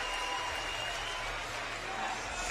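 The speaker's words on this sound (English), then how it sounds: "a nice round of applause from the community here inside the Allied Energy Center Coliseum" Steady, dense applause from a community crowd inside the Allied Energy Center Coliseum at a CrossFit Games team relay event, a continuous wash of clapping with faint talk mixed in throughout.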